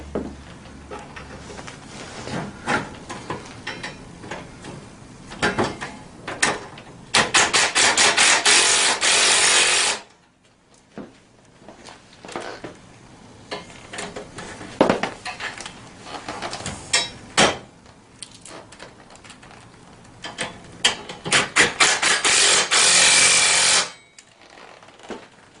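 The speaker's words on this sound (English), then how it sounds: "It's a 10mm ratchet." Ratchet work on a 110cc mini ATV, a 10mm ratchet tightening bolts: close, gritty rasping and clicking in repeated bursts, with two long sustained stretches of dense ratcheting and short quiet gaps between, no talk.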